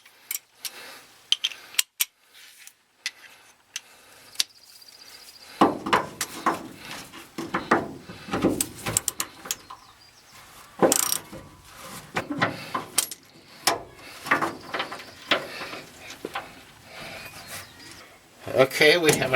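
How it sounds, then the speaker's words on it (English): Bolts come off the chassis of a 1990 Chevy pickup during a fuel pump replacement: close metallic scrapes, clicks and rattles of tools and hardware in irregular bursts, with quiet pauses and some talk. "So I'll remove those 2 bolts."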